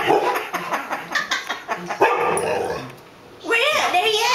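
A small dog barks in a quick series of sharp yips, fairly close, with a person talking over and between the barks.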